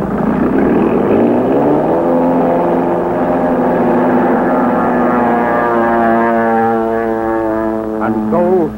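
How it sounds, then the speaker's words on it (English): A steady, droning engine roar with a rising pitch, like a propeller plane in flight, loud and continuous throughout, without speech. "Into the night roars a plane piloted by a lone man"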